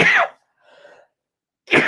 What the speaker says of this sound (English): if I start coughing, it takes me a while to stop